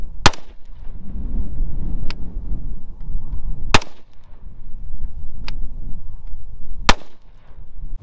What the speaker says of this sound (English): I've never shot this stuff, so I'm gonna load up 5 rounds in my AUG.